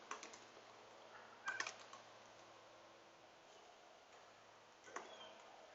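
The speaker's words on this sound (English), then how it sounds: "So go ahead and type this in." Computer keyboard typing while entering commands for a Cisco 9800 wireless controller setup, a few quiet clustered bursts of key clicks separated by long near-silent gaps, faint and close.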